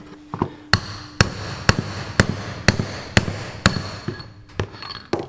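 An old bent chisel struck with a hammer to drive out the end of a Massey Ferguson 135 tractor front wheel bearing, about ten sharp metallic blows in a steady rhythm, close and loud, with a few quicker taps at the end.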